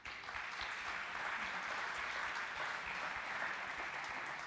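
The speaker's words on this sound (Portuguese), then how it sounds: "Dá um aplauso ao Senhor." Church congregation applause during a Portuguese-language sermon, a steady, sustained patter of many hands clapping together, heard from across the room at a soft, even level, with no speech over it.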